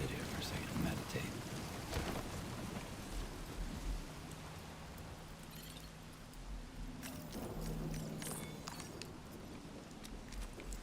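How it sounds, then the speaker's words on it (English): Steady rain falls in the video game Death Stranding 2, a continuous wash of patter with faint low rumbles and occasional brighter drops, and a voice briefly talks over it. "I try to sleep through the rain."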